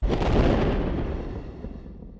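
A multi-stage rocket launch in the film Interstellar, heard as a loud, sustained roaring blast that starts abruptly and slowly thins out with no voices.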